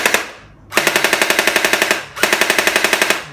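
A JM SCAR V2 gel blaster firing on full auto, two loud close bursts of rapid evenly spaced shots, the first about a second and a half long, the second slightly shorter, with a brief pause between.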